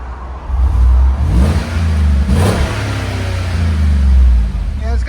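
A 2015 GMC Sierra SLT pickup with a 5.3L V8 and Borla Touring exhaust revs up and holds a steady, deep engine drone, loud and close, with the pitch surging mid-clip and again near the end.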